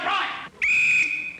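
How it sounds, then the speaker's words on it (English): A whistle is blown once in a steady, shrill blast lasting about half a second, loud and close, just after a brief burst of a voice. "I am not a Gestapo officer until I blow my whistle."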